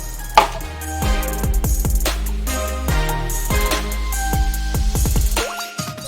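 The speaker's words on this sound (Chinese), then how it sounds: "那我首先要把这个蒜头切碎碎" Garlic cloves chopped finely with a knife on a cutting board, a steady run of sharp, close knocks of the blade repeating in quick rhythm, with no talk.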